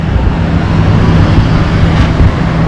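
Heavy traffic on the Kasara Ghat road, with big trucks and tankers; a loud, continuous engine rumble and road roar that stays close and steady.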